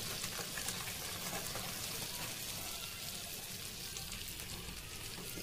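Flour cooking in melted butter for a white sauce, a fine, even hissing sizzle like light rain that holds steady and quiet throughout, with no voices.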